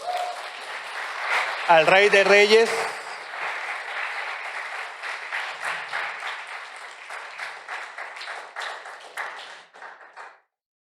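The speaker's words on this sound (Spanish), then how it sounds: "Pues dale un fuerte aplauso" A church congregation applauds at a service, giving a sustained crowd clapping that fades over about ten seconds. A brief sung or spoken phrase cuts through near the start.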